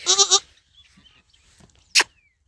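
A young female Rajanpuri goat bleats close by in a quick wavering triple call. After a quiet stretch of faint rustling, one sharp short bleat follows.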